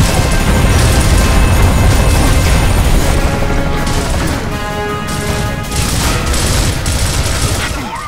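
Heavy gunfire and explosions in Gears of War, a loud, relentless wall of sustained shooting with crashing booms layered throughout, dense and close, with faint radio-style voices partly buried in the din.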